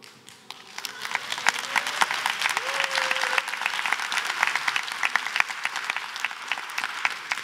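An audience claps at a talk, the applause swelling after a quiet start into a dense, sustained patter of many hands, close and full.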